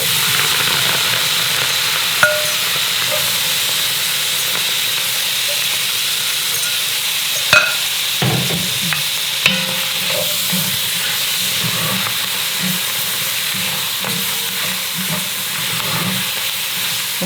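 Vegetables frying and being stirred in a dark roux, with a steady loud sizzle and hiss running throughout and a few spoon scrapes and clunks partway through, close and with no talking.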